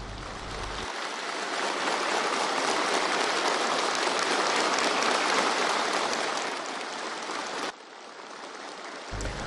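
Warm applause fills a gala for retired officers, a dense, sustained wall of clapping heard at some distance that swells, holds for several seconds and then softens before an abrupt cut.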